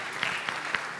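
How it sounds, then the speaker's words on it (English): A brief burst of audience applause at a youth climate conference in Uganda, with a few distinct claps standing out over a crowd murmur. "Please, a round of applause."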